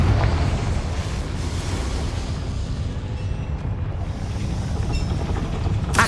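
A Confringo fire spell explodes in Hogwarts Legacy, a loud rumbling blast with sustained booming low-end roar and crackle running through the whole stretch, with a brief sharper burst at the end.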